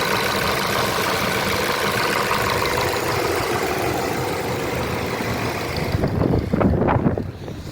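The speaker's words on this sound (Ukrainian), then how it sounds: "Робить добре мотор." A Ford Fusion engine idles steadily with a low, even rumble, followed by a few louder rough bursts near the end.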